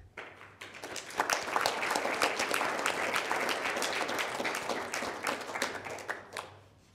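Audience at a Lynchburg City Council meeting gives a steady round of hand clapping that swells in, holds for several seconds at moderate level, then tapers off.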